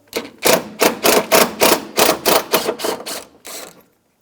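A 10mm socket ratchet loosening the hood bracket on a 2004-2009 Subaru Outback, about a dozen quick rhythmic clicking bursts in steady succession, close and loud, then stopping; no speech.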